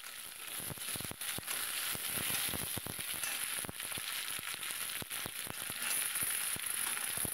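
Radish and kohlrabi pieces fry in a pan for Morla fish chorchori with a constant hiss of sizzling oil, broken by frequent light clicks and scrapes of stirring.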